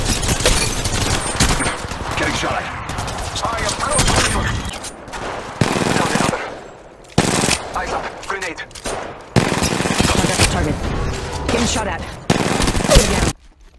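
Loud bursts of rapid automatic gunfire in Apex Legends Mobile come in repeated volleys broken by short gaps, with game voice lines mixed among the shots.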